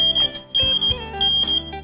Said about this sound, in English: The full alarm sounds 6 to 8 beeps about every 20 seconds, which is accompanied by a red flashing light.